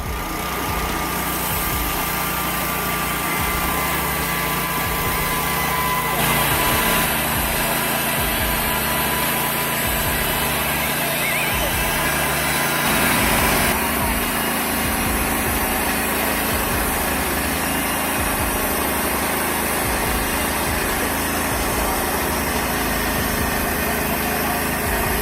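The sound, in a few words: TimberKing 1600 sawmill engine running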